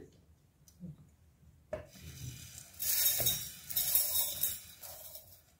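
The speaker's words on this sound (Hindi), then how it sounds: "अब ये सारे मसाले ग्राइंडर जार में डाल लेते हैं" Roasted kitchen spices are tipped into a metal grinder jar, with a few faint knocks, then a sharp clatter and a stretch of loud rattling, scraping pour that comes in uneven surges.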